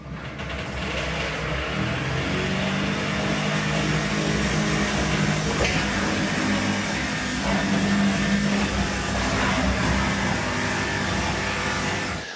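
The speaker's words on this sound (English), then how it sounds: "I didn't even have to spin round for the weapon to spin up. It just spun up." A heavy spinning blade weapon on a combat robot winds up after a jam was cleared, a steady loud mechanical whir and hum that holds for about twelve seconds with a rising tone partway through.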